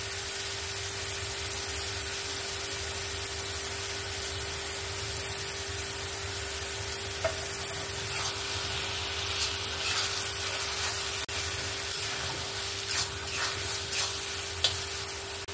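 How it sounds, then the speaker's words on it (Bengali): Tomatoes with salt sizzle steadily in a pan as they are stirred, a continuous close frying hiss with occasional soft scraping clicks and no talk. "এখানে আমি লবণটা দিয়ে টমেটোটাকে ভালো করে কষিয়ে নিয়েছি"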